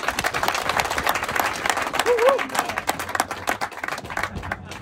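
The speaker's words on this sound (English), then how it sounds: "give them a round of applause and just recognize them" Round of applause from an audience at a cycling team camp kick-off, a steady wash of clapping with crowd murmur and voices mixed in, moderately loud throughout.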